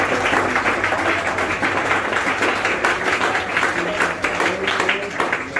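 Congregation at an IPUC church service in Colombia applauding together, a steady dense wash of clapping that fills the whole stretch at moderate loudness, with a few voices mixed in.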